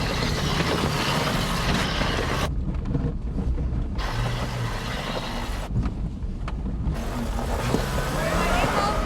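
Off-road 4x4 vehicle engine revving hard after a restart at a 4x4 club challenge, a loud continuous roar with surging throttle bursts and brief drops, close by throughout.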